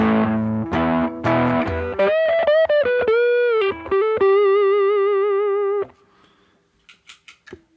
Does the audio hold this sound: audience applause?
no